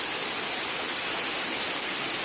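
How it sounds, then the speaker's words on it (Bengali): Winter rain pours steadily onto a rooftop garden, a dense, even hiss of drops that stays loud and unbroken for the whole short stretch, with no voices. "বৃষ্টি নেমে গেছে দেখেন তো বৃষ্টির শব্দ উপভোগ করি আমরা"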